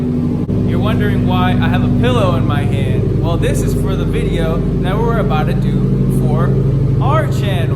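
A Subaru STI engine rumbles steadily nearby, a constant low drone beneath a person talking throughout.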